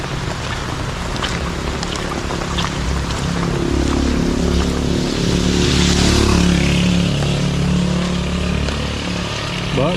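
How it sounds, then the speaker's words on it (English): A motorcycle rides down a wet road in heavy rain in Cheswick, St Thomas, Jamaica, its engine droning steadily and swelling as it passes close by, with rain hiss and wind buffeting throughout. "people going down the road on a motorcycle in the rain"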